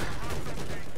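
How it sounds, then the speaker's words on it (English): Battlefield 4 gunfire in a one-second burst of dense, continuous shooting, loud and busy, with a voice faintly mixed in. "Yeah, the guy you're shooting at now."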